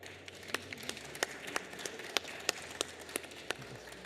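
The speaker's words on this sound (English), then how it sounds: "Can we get a round of applause for our panel?" Scattered clapping from a small audience after a panel discussion at a conference theatre, sparse individual claps spread across a few seconds rather than a full ovation, fairly faint and distant.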